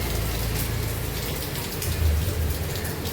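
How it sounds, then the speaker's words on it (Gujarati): Heavy monsoon rain pours down steadily, a dense, loud, unbroken hiss of drops with low rumbling underneath and no voices. "જબ્બર આવે વરસાદ જો."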